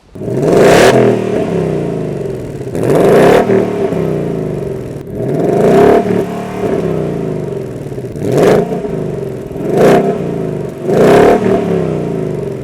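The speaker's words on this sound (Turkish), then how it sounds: "Gelelim sesine. Sesini merak ediyorsunuzdur zaten. Nasıl bir sesi var Mustang'in?" A Ford Mustang 5.0 GT V8 engine revved repeatedly, about six loud blips that each surge up and settle back to a rumbling idle, close and alone without talking.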